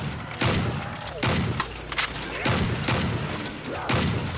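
Desert Eagle pistol fire in a zombies video game: five loud, booming shots spaced roughly a second apart, each with a short decaying tail.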